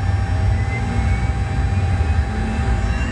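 The number 2 engine of a United Boeing 737 spins up in a steady, loud, droning whine heard inside the cockpit, continuous with no speech.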